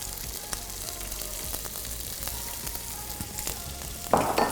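Onion frying in oil in a pan, a steady soft sizzle with faint crackles, then a louder burst of hissing near the end as more ingredients hit the hot oil.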